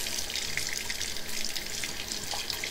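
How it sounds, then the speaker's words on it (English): Hot water runs steadily from a faucet into a sink, a continuous close splashing hiss with no voices. "I'm gonna have to run it under some hot water."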